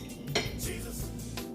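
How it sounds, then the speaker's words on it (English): A butter knife cuts a hard-boiled egg on a plate. Light metallic clinks and scrapes of the knife against the plate come in a short, quiet burst, close up, with no speech. "We have a plate here for which we are going to cut one open and see how it looks inside. I'm just using a butter knife."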